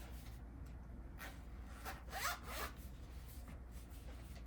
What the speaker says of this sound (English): just closed my toolkit